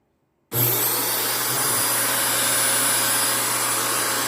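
A repaired vacuum cleaner switches on abruptly after a moment of silence and then runs with a steady, loud, close motor drone and a constant hum, with no one talking.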